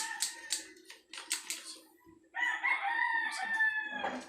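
Chickens cluck and then a rooster crows loudly, a long drawn-out call; farmyard fowl noises nearby with no one talking.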